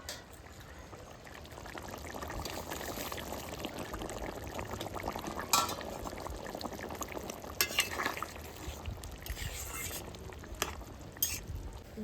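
Shrimp go into a hot pan with water for a Bengali dish, giving a steady wet sizzle and bubbling with stirring and occasional sharper clinks and splashes, close and continuous.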